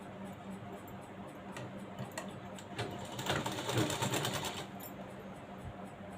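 A sewing machine stitches a cross strip with a quarter-inch seam margin, its needle running in a quiet rapid rhythm that swells in the middle and then slows, with no voices.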